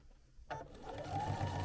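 A sewing machine stitching Chenille-It binding onto a quilt starts up after a short pause and runs in a steady close mechanical whir.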